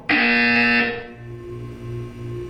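A loud electronic buzzer from the video game Portal 2 sounds once for about a second, a sustained harsh tone that cuts off and leaves a low pulsing hum behind.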